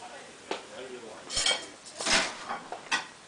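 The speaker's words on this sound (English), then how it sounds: "I want to see you washing the dishes." Dishes, pots and cutlery being washed by hand at a family Thanksgiving gathering, with a series of sharp clinks and clatters in quick bursts, close by and fairly loud.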